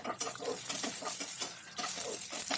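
Okra (ladies finger) frying on a medium flame, with a continuous hiss of sizzling oil and repeated scraping stirs in the pan, close and steady.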